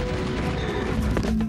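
Rapid gunfire from the 2004 first-person shooter Serious Sam, a dense burst of overlapping shots and booms filling the short stretch, loud and continuous with no talk over it.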